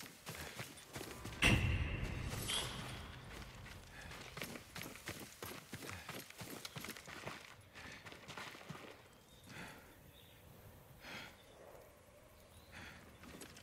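Steady clip-clop of horse hooves walking on a path in the video game Ghost of Tsushima, with a louder thump early on and a low ambient background fading in and out.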